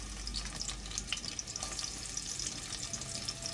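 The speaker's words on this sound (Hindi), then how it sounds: "अब हम इसमें प्याज ऐड कर रहे हैं।" Onions frying in a hot pan, a constant crackling sizzle with scattered bright pops and light stirring scrapes, close up and steady throughout, with no voices.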